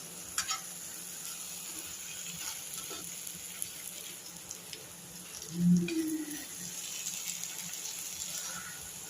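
Raw mango pickle mixture sautéing in a generous amount of oil for a mango thokku, giving a steady low sizzle with occasional stirring scrapes and a brief louder bubbling burst midway.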